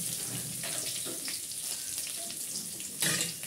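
Chopped onion frying in mustard oil with nigella seeds and a dried chilli, a faint steady sizzle in the pan punctuated by a few soft stirring scrapes and a brief louder hiss near the end.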